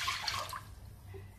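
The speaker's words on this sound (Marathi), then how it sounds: "एक भांड पाणी घातलेलं आहे" Water splashes and trickles into a kadhai set to heat for boiling spinach, a short pour heard close up with no talk.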